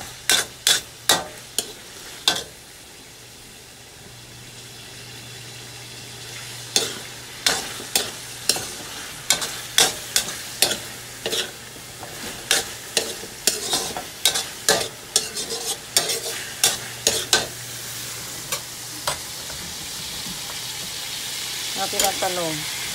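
Squash pieces being stirred in a pan for pakbet, with repeated sharp scraping strokes of the utensil against the pan over a steady frying sizzle, close and fairly loud, without talk.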